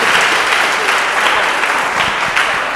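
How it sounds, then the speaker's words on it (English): An audience at a college presentation on gender-based violence applauds the panelists, dense steady clapping from a full room that carries on loud and unbroken throughout. "just a huge round of applause."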